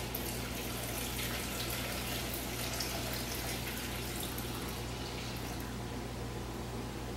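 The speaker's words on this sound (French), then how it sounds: "je verse mon lait à 30 degrés dans mon récipient à fromage blanc" Milk warmed to 30 degrees pouring into a fromage blanc container, a steady, faint liquid stream that runs continuously without pause or voices.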